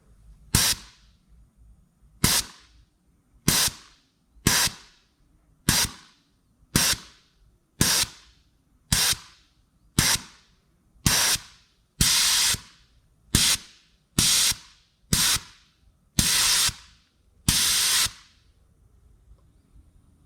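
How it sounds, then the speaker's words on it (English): A tire pressure gauge's bleed valve releases air in about fourteen short, sharp hissing bursts, evenly spaced with quiet gaps between, each close and crisp. "So let's say you want to reduce the pressure. Okay, so here's the bleed valve."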